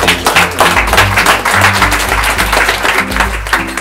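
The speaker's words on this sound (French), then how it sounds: "Donc une main d'applaudissement encore pour les jeunes." An audience applauds young people at an event, the clapping loud and continuous over a strong musical backing with a steady low bass pulse.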